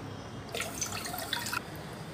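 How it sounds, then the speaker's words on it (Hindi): Water being poured into sugar to make syrup for rasgulla, a short close splashing trickle lasting about a second against a quiet kitchen background. "1 कप शक्कर लिए ये 1 कप से 3 कप पानी डालेंगे"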